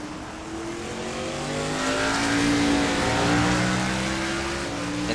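NASCAR stock cars race around the Okayama circuit in iRacing, engines droning and rising in pitch as they accelerate, several cars layered together at steady loudness with a faint hint of tire scrub.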